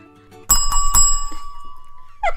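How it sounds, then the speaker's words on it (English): A bell rings loudly in a few quick, bright strikes, followed by a clatter as it gets knocked over. "I told her to ring the bell really loud"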